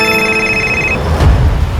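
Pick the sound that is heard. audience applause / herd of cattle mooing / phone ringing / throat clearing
phone ringing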